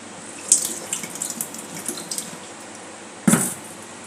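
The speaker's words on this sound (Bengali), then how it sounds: "দুধটাকে ঢেলে ফেলেছি" Milk poured out into a sink, a soft liquid splash and trickle near the mic with a brief louder splash toward the end.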